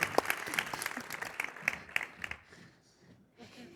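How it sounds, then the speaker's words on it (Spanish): A conference audience at a panel session in Fuenlabrada claps warmly for a few seconds. The dense applause is close and lively at first, then thins and fades into quiet room tone. "Por favor, un aplauso."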